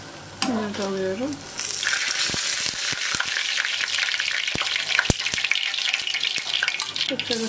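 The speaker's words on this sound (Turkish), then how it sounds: "Kızardıkça çevirip çevirip kızartacağım." Börek pastries frying in hot oil in a pan, a loud continuous close sizzle that starts after a brief voice-like sound, with sharp pops and spatters throughout.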